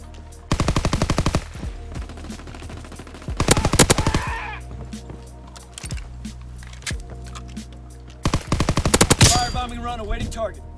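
Bursts of rapid automatic gunfire from a World War II Call of Duty video game, loud clustered volleys with quieter gaps and scattered single shots between them.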